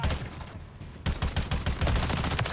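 Rapid gunfire from the BAL-27 rifle in Call of Duty: Modern Warfare 3, a quieter stretch giving way after a second to a loud, sustained automatic burst of shots.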